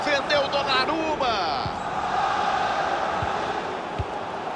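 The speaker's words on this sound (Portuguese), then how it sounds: "A torcida aproveita que a bola foi recuperada e faz barulho para empurrar o PSG para o ataque" A stadium crowd in FIFA 22 during a PSG versus Juventus Champions League match roars and chants continuously while a commentator talks over it, with a few sharp thuds from the ball.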